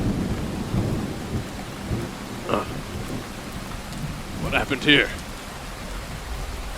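Rain and rumbling thunder from a tabletop audio drama storm scene, a steady wash of rainfall with low rolls, under a voice speaking, with two brief sharper bursts midway.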